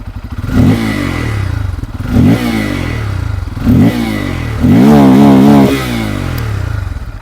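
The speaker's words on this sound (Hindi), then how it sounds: "अब दोस्तों यहाँ पर जो N250 है इसकी भी आवाज़ दोस्तों आप लोग सुन लीजिए।" Bajaj Pulsar N250 motorcycle engine with a dual barrel exhaust, idling steadily and then revved in four sharp blips, the last held longest, loud and close with no talking.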